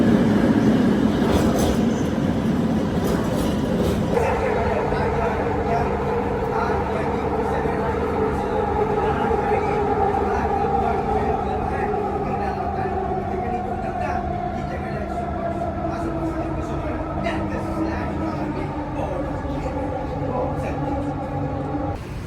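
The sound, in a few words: train in motion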